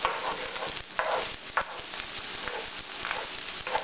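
Eggs frying dry in a pan for Japanese vegetarian fried rice, with a steady near sizzle broken by scraping stirs and occasional louder spatula clatters, no talking.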